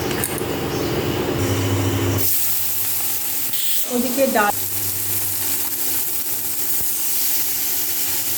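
A pressure cooker cooking dal lets out a loud hissing steam whistle for about two seconds. Steady frying sizzle from prawns in a pan follows, with a brief spoken word.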